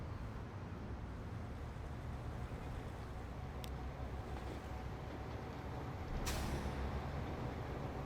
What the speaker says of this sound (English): Go, my trucks.